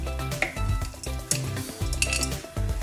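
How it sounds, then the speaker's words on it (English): A spoon scoops, squishes and twists white chocolate cranberry walnut cookie dough in a bowl, giving soft, irregular scrapes and clinks against the bowl, close and fairly quiet. "I find kind of squishing it in and kind of just twisting your spoon"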